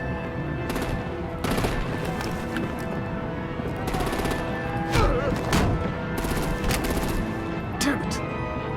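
Repeated gunfire and artillery bursts in a Telltale Batman game battle, sharp broadband shots recurring every second or two over a dense, noisy backdrop of action, with voices talking throughout.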